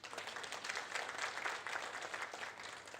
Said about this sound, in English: A hand of applause, please.